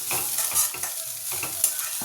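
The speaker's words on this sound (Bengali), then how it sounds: "এই থোড় ভাজা খেতে যে এত ভালো লাগে না" Chopped banana stem fries in a pan as a spatula stirs it in quick repeated scrapes over a steady close sizzle, with no one speaking.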